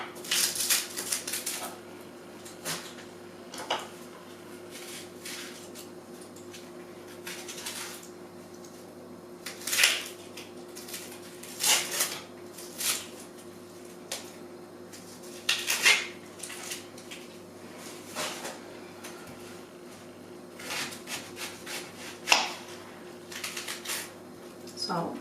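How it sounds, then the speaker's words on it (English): A knife chops onion and capsicum on a cutting board in a home kitchen, giving irregular close, sharp taps and clacks, sometimes in quick bursts, separated by short quiet gaps. "I'm going to chop these up first and put them on the pan"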